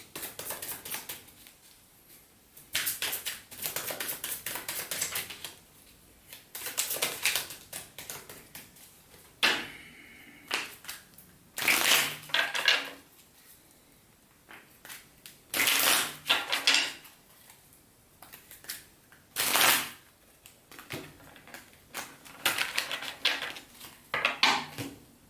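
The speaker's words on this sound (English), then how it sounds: "Let's pull 2 more cards" Tarot cards being shuffled, riffled in repeated bursts of crisp papery flutters and slaps with short pauses between, close and fairly loud with no talking.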